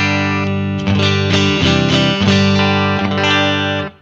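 A Telecaster electric guitar plays a few clean chords and ringing notes through a Blackface-style tube amplifier, full and sustained, fading out at the end.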